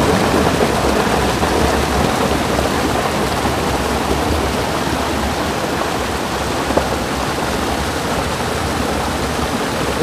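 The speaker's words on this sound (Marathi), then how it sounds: "परत आलेला आहे पाऊस." Heavy monsoon rain pours down steadily in a Konkan village near Rajapur, a dense, loud, unbroken wash of noise with no voices over it.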